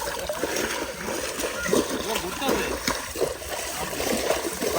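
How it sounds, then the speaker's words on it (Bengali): Fish splash and thrash in a fishing net in water, with irregular sloshing and splattering bursts throughout, while people talk over the commotion. "বাইরে কেন মাছ লাফাচ্ছে?"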